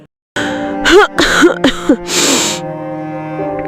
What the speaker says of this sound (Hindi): हल्की खांसी सुनाई दी।